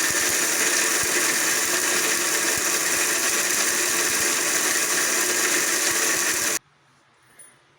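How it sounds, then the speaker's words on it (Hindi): Electric grinder pulverizing dried lemon peel into powder, a loud continuous high-pitched motor whir that stops abruptly near the end, followed by a faint clatter. "मैंने दोबारा ग्राइंड करना है।"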